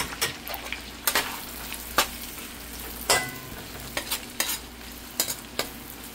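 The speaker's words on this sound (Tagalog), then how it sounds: "Lagay natin yung ating bawang at saka sibuyas." Garlic and onion sautéing in butter in a pan for chicken pastel, a steady close sizzle broken by sharp clicks and scrapes of a utensil stirring at irregular intervals.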